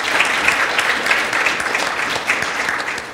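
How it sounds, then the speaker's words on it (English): Applause from the audience at a men of color achievement conference, a steady crackle of many hands clapping at moderate volume, with no talk over it. "Let's give these gentlemen a round of applause"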